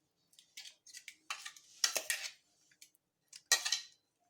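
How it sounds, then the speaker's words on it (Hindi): A metal spoon scrapes and clinks against a sieve while pushing moringa paste through it, a series of close, quick scraping strokes in irregular bursts with short silences between. "तो अब इस तरह से चम्मच से चलाकर हम इसको छान लेंगे"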